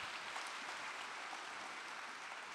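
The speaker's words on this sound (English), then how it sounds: "Big round of applause for that" An audience claps in steady, continuous applause for a company acquisition announcement, faint and even throughout with no distinct individual claps.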